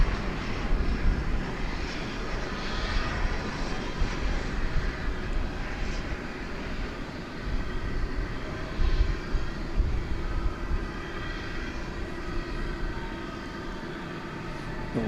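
An American Airlines MD jet departing runway 18 left at Dallas Fort Worth airport at night, a distant, sustained roar of jet engines rising and rolling steadily for the whole stretch.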